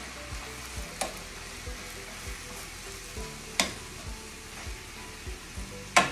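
Turkey meatballs simmering in an orange glaze sauce, with a steady soft sizzle and bubbling, a few spoon clinks and stirring knocks close by, and no talking.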